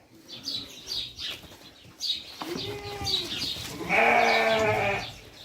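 Sheep and lambs bleat repeatedly, one loud nearby bleat near the end, with faint birds chirping and rustling in the background.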